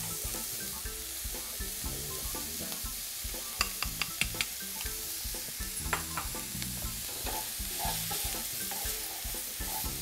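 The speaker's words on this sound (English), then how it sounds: "And we're just gonna saute that off." Vegetables sautéing in hot oil in a pan give a steady, close sizzle, broken by a few sharp clicks and taps of a utensil stirring against the pan.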